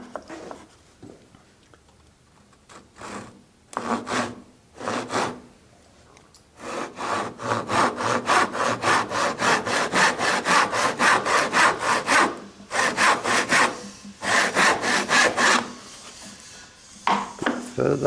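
A hand saw cutting a half-lapped dovetail joint in wood, with steady rhythmic rasping back-and-forth strokes, loud and close, that start after a few hesitant strokes and pause briefly before continuing.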